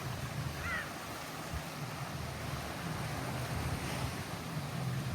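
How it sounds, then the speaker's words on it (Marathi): Big ocean waves roll onto a beach in Goa, a steady roaring surf wash with wind buffeting the microphone throughout, loud and continuous with no clear breaks. "बापरे केवढ्या लाटा आल्या या."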